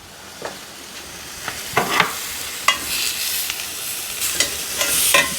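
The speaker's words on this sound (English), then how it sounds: "Make sure I got a good flame on those steaks." Steaks sizzling over a grill flame, a steady hissing crackle with scattered sharper pops and spits, close and with no talk.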